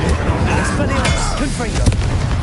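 Fiery Confringo spell blasts in the Hogwarts Legacy video game, a dense run of booming, crackling impacts filling the whole moment over busy game sound, with no voice.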